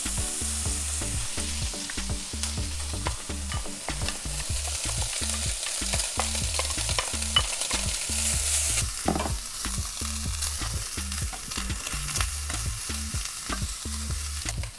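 Bacon sizzles steadily in butter in a heated pan, a continuous close frying crackle with periodic stirring scrapes throughout, no voices.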